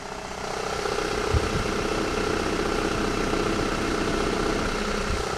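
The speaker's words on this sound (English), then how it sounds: "it's the AC compressor making a ton of noise" A car AC compressor running without refrigerant makes a loud, steady mechanical drone up close, a constant rough hum that holds for the whole stretch with one brief knock early on.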